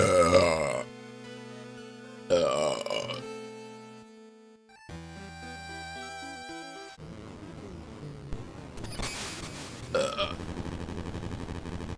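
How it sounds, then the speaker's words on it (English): Several loud, drawn-out goblin-style burps with rough, gurgling voicing, separated by short gaps, with brief musical or ambient passages between them. "how do I burp a lot? I'm just really gassy."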